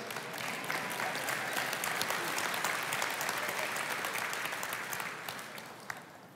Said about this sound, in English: Can I get a clap from the ladies?